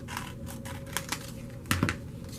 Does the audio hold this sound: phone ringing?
no